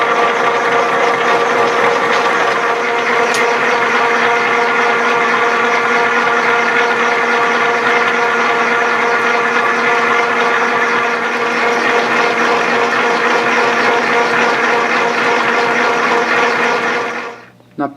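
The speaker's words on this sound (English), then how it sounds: "For parting with this lathe, I always put it in back gear." A metal lathe running slowly in back gear parts off a workpiece, giving a loud, steady mechanical whine and gear drone with a constant rumble that runs unbroken before cutting off abruptly at the end.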